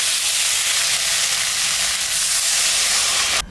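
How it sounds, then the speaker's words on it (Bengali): Water poured onto a spice paste of green and dried chilli frying in a pan for a fish curry, giving a loud, steady hiss and sizzle that holds evenly before cutting off abruptly at the end. "মশলাটা ভাজা হয়ে গেছে, আমি এখন সামান্য জল দিয়ে দেব।"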